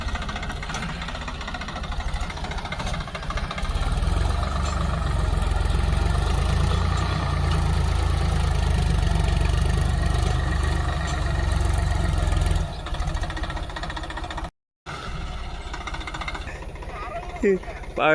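A tractor engine drones loud and steady at close range with a knocking, vibrating throb while ploughing a field for a second tilling, and speech is heard faintly over it before a brief dropout near the end.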